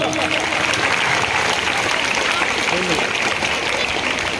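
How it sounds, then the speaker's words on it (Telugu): A crowd of children at a political gathering claps loudly and continuously, a dense steady wash of applause with a voice speaking over it. "మీరే జోరుగా చప్పట్లు కొట్టాలా జగన్మోహన్కి వినిపించేలా"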